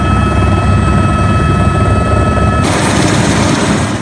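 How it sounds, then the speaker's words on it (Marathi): Helicopters bringing relief supplies land on an island after a cyclone flooded a city in Mozambique, their rotors making a loud, steady, broadband whir that runs throughout without voices. "इथल्या एका बेटावर दक्षिण आफ्रिकेतून आलेली हेलिकॉप्टर्स उतरले आहेत"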